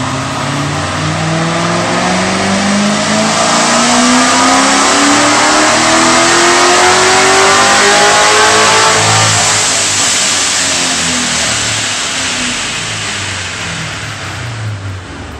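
A supercharged Corvette C7 fitted with headers, a smaller pulley and methanol injection roars on a dyno, its engine climbing steadily in pitch through a long, loud, continuous rev before easing off near the end.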